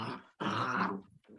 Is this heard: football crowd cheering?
no